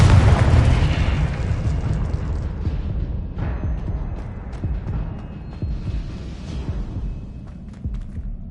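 A Confringo fire spell detonates in Hogwarts Legacy, a loud booming blast at the start that rolls into a long rumbling decay, with scattered smaller pops and crackles fading over several seconds.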